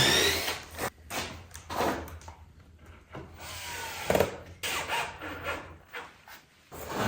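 A power drill fitted with a trusty bit bores into green oak for a timber-frame brace, with repeated bursts of whirring and grinding cut by short pauses, close and steady.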